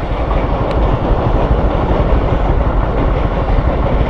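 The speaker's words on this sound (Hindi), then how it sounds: "कायदाबाद इंटरचेंज जो मलीर एक्सप्रेसवे का है उसके पास जो ब्रिज बना हुआ है वहां से ट्रेन गुजर रही है।" A long train rolls across a bridge near the Quaidabad interchange of the Malir Expressway, a loud continuous rumble with clickety-clack of the wheels close by, with no talking.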